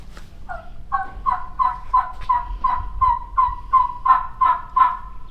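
Live turkey hen yelping in a steady run of about a dozen raspy two-tone calls, fairly close and loud over a low rumbling background, with no talk.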